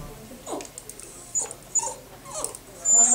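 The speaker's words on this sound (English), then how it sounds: "So he's making puppy noises." A puppy whimpers and yips in several short, high, faint cries spaced across a few seconds, with quiet background noise between them.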